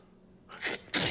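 A single sharp human sneeze bursts out after a moment of quiet and is quickly followed by a short spoken reaction, all close and fairly loud.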